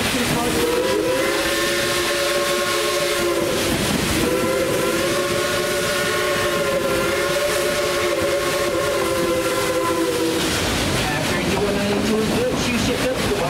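A narrow-gauge Type 282 steam locomotive's whistle sounds in long sustained blasts over the heavy rumble of the moving train, loud and close.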